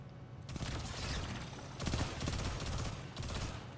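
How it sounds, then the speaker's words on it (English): Burst-fire weapon shooting in the game Destiny 2, rapid loud volleys in two sustained bursts with a short gap between, close and dense with no talk. "Burst firing the weapon."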